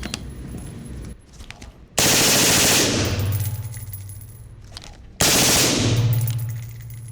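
A suppressed belt-fed gun with a Force Reset trigger fires two loud, rapid bursts, each roughly three seconds long with a steady mechanical clatter, separated by a short pause, and no talking is heard.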